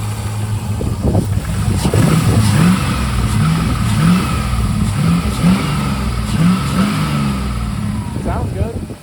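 An LS V8 swapped into a Mazda RX-8 revs up in a series of rhythmic throttle blips over a low engine rumble, close and fairly loud, with voices heard alongside.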